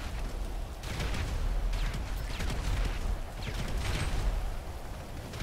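Repeated booming explosions and bursts of gunfire in a GTA Online shootout on PC, several rumbling blasts at irregular intervals over a constant low din, moderately loud, with no talking.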